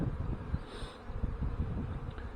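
Honey bees buzz around an open hive during a spring hive check, a faint, irregular drone with soft flickers of wing hum and light rustling close by.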